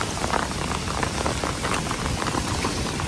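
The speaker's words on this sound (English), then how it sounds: "unfortunately it's raining outside" Rain falls outside in a dense, steady hiss of patter that stays constant and fairly loud, with no speech over it.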